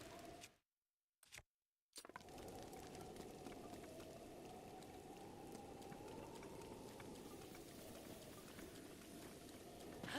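Steady gentle rain in the video game Breath of the Wild, a soft continuous hiss that fills the scene at an even level after a few brief dropouts near the start, with a faint low tone running beneath.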